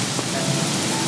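Rain falls in the survival video game Craftopia as a dense, even hiss of downpour that holds steady and close throughout, with no speech.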